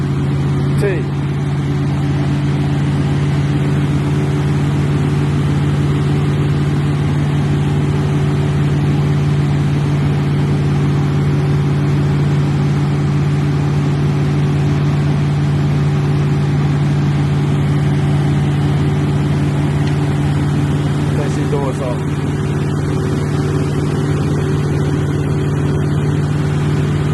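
A car engine runs steadily with a constant low droning hum and a slight revving lift, close and loud throughout the whole stretch without pause.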